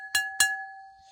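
Ceramic plate flicked twice by a finger, each tap followed by a clear, sustained bell-like ring that hangs on after the taps.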